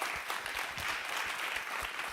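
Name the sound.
audience applause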